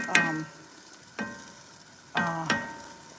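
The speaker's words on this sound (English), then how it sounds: "I'm just gonna give this a little stir around." Noodles stirred in a cooking pot for a corn pot pie dinner, giving three or four separate scraping clatters of utensil against pot, fairly close, with a faint sizzle between them.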